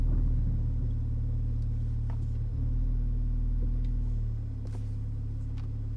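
Idle burble from the performance exhaust of a 2016 Mercedes GLA 45 AMG with the valve open in Sport Plus: a steady, loud low-pitched rumble that eases slightly near the end, with no talking.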